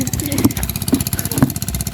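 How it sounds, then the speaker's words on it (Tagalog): A water pump engine runs loud and steady nearby while a field is being irrigated. It keeps up a fast, rough mechanical chugging throughout, with faint voices underneath. "May nagpapatubig po doon kaya may maingay na makina."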